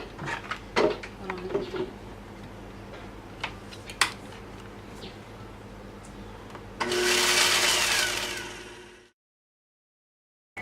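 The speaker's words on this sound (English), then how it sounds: "Now in your blender you want to add a 1/4 cup of rolled oats and blend smoothly." A kitchen blender whirs loudly as it blends rolled oats, a steady high-pitched grind of about two seconds that spins down into silence, following scattered kitchen clicks and knocks.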